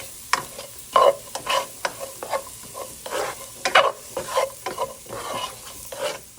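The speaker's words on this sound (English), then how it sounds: "it's been 30 seconds or close to a minute that it has been sauteing" Biryani ingredients sauté on a low flame in a pan, with a soft sizzle under a series of distinct, close spoon scrapes and taps in an uneven stirring rhythm.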